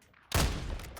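A single unsuppressed Hawkeye rifle shot in Warzone cracks out sharply after a brief quiet lead-in, loud and close, then trails off into a rumbling decay.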